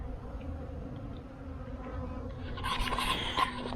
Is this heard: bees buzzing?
yes